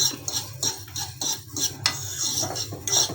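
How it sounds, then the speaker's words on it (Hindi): Spoon stirring and scraping mixed pickle spices as they roast in a pan, repeated sharp metallic scrapes and clinks in an irregular rhythm over a faint low background, close and fairly loud. "ऐसे चम्मच चलाते जाएं, इसको पलटते जाएं ताकि ये नीचे ना लगे।"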